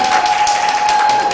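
An audience claps at a traditional Beti wedding, a dense patter of hands lasting only a moment, loud and close with a steady tone running underneath.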